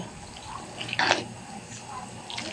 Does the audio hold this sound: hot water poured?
yes